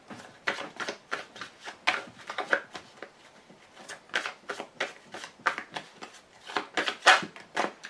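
Heavy playing cards shuffled by hand for a card reading: a long run of crisp, rapid riffling bursts in uneven rhythm, close and clear with no talk.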